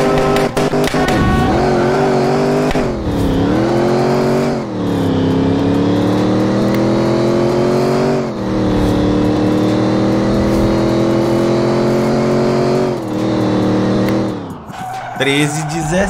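A Brazilian-style VW Gol sleeper build with its gearing being shortened revs hard through several close, loud pulls, the engine note climbing, dropping briefly at each shift, then rising again.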